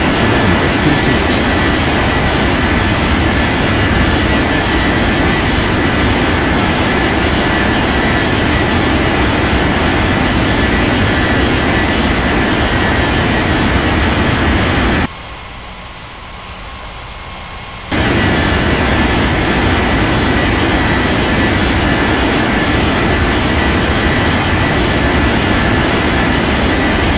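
A jet airliner in the Unmatched Air Traffic Control video game spools up for takeoff at a Rocky Mountains regional airport, producing a loud, steady engine roar that cuts out briefly partway through and then returns at full strength.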